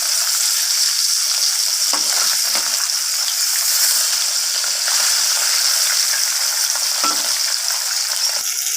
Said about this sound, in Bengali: মাছটাকে আমি লাল লাল করে ভালোভাবে ভেজে নেবো